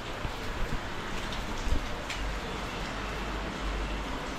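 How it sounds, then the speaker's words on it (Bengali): Steady rain falls with a constant hiss, a few louder drops tapping nearby, no voices. "আজকে তো এতটাই বৃষ্টি হচ্ছে সকাল থেকে"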